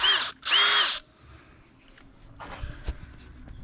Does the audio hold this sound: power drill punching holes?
yes